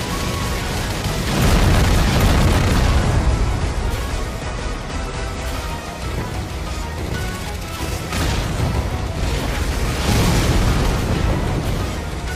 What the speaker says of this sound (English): I just load up on the fucking bombs